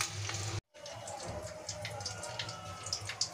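Eggs frying lightly in hot oil in a pan for a home-style Bengali egg curry, giving a steady close sizzle with faint crackles, briefly cut off near the start before carrying on.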